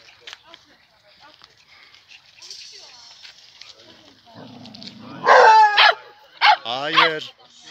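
Male German Shepherds at a dog park break into a burst of loud, close barks and yips, with people talking before and between the barks.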